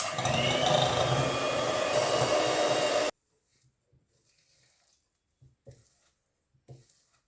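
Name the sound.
electric beater beating butter and sugar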